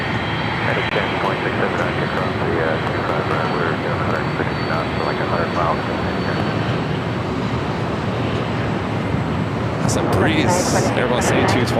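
An Airbus A220-300 jet takes off from runway 25 right at LAX, a steady broad engine roar holding loud throughout, with a brighter hiss rising near the end and voices talking faintly underneath.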